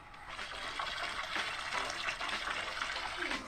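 Water gushes steadily into a plastic basin while a deep-fried food dish is being prepared, a continuous close pour with no talk.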